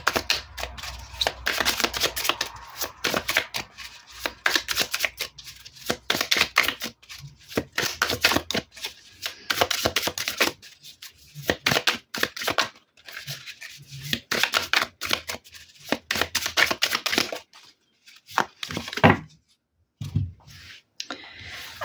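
Tarot cards being shuffled by hand in repeated bursts of papery riffling and slapping, close and fairly loud, with short pauses between runs and a brief lull near the end.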